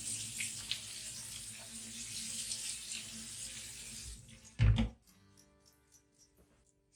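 Chickpeas rinsed under a running kitchen tap for soaking before a chickpea and salt cod stew, a steady water rush for about four seconds, then a brief loud clatter and quiet knocks as the flow stops.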